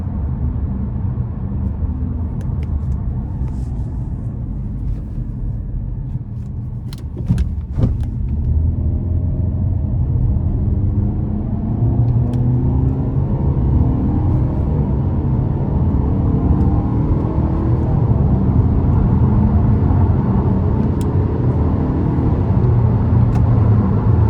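A 2017 Nissan Rogue S with its 2.5 engine pulling up onto an interstate, a steady low cabin drone of engine and road noise that slowly climbs as it accelerates, with a few brief clicks early on.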